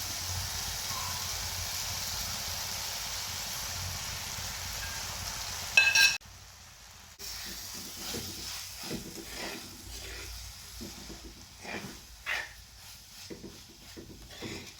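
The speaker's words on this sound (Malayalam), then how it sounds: "ഇതിൻ്റെ എല്ലാം പച്ചമണം ഒന്ന് മാറുന്ന വരെ നമ്മൾ ഇളക്കി യോജിപ്പിക്കണം." Fish pieces and crushed coconut fry in a pan while being stirred, a soft steady sizzle for several seconds, then a brief clatter before quieter scraping and stirring sounds.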